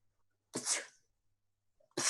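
One sharp, close human sneeze bursts out of near silence, and a second sneeze starts right at the end.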